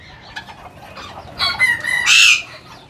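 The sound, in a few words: chickens clucking and rooster crowing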